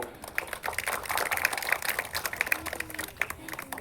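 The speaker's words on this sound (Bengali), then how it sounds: "তাদের আমরা উৎসাহিত করার জন্য জোরে হাততালি দেব" An outdoor crowd at a women's football match applauding the teams, a dense burst of many hands clapping, fairly close and sustained for several seconds.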